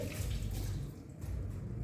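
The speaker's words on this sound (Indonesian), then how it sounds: "Basahi kedua belah tangan di bawah air mengalir." Water runs from a tap with a soft, steady splashing as hands are wetted under the stream, fluctuating slightly, fairly quiet.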